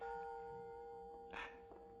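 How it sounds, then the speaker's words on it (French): A distant bell peals once with a bright, ringing strike that fades, over a steady tonal hum in an otherwise quiet scene. "Qui peut bien sonner les cloches de l'église à cette heure-ci?"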